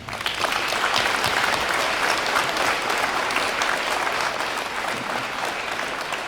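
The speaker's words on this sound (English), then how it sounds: "they deserve a round of applause" An audience at a Veterans Day event applauds the cadets with steady, dense clapping that holds at an even level throughout.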